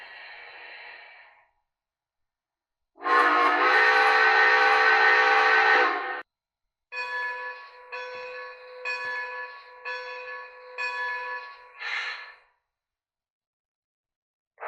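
An O-scale New Hope & Ivyland Railroad #40 2-8-0 Consolidation model locomotive's horn and bell sound in loud bursts, with a short tone at the start and choppy, repeated horn blasts afterward.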